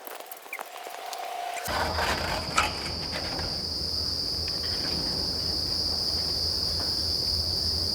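Crickets chirp steadily in a cricket-raising house on a school farm, a dense, continuous high-pitched trill that fills the space after a brief quieter moment at the start, with a low hum running underneath.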